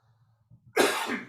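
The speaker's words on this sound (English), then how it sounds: "Excuse me, got the cough going." A single harsh cough bursts out after a brief low murmur, rough and close, then trails off.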